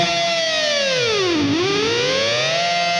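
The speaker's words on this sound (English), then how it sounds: "And then there's like a dive bomb at the end" A distorted electric guitar performs a dive bomb at the end of a song: the sustained note slides steeply down in pitch, bottoms out in a growl, then climbs back up, loud and alone.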